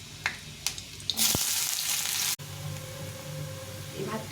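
Chopped garlic and onion hit hot oil for fried rice, bursting into a loud, steady sizzle that cuts out briefly, then settles into a quieter continuous fry with a few clinks of utensils.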